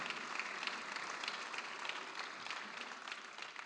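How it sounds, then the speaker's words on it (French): Faint, distant applause from a conference audience during an opening speech at the REF business forum, a soft even patter of clapping with no one speaking over it. "là, vous pouvez applaudir"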